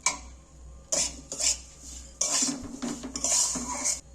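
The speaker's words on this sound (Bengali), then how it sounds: "সুজিটা নাড়াচাড়া করতে করতে সুজির কিন্তু কালারটা কিন্তু অনেকটাই বদলে গেছে" Semolina for suji halwa with raisins and a pinch of salt is stirred and roasted in a pan, a spoon scraping and clinking against the metal in repeated bursts, close and fairly loud with no talking.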